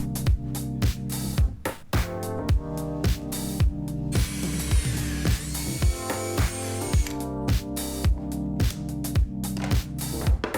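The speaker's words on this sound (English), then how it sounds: "now we need to drill the holes for the wine glasses" A power drill whirs and whines steadily drilling holes in wood, its pitch wavering as it bites, over a steady rhythmic musical beat.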